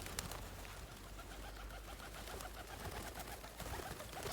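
Pigeons being fed outdoors in winter, soft cooing and fluttering mixed with scattered rustles and a few sharp ticks, faint and continuous against a broad background hiss with no talk.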